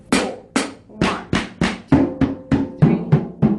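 Drum kit plays an easy groove with an eighth-note triplet fill, a steady run of about a dozen close, loud strikes mixing kick, snare and cymbal hits with no talking.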